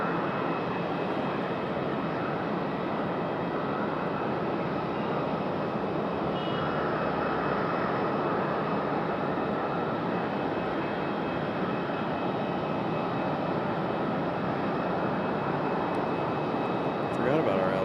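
An airliner arriving at Raleigh Durham airport from Charlotte makes a steady, distant rumbling engine roar that holds evenly the whole time at a moderate level.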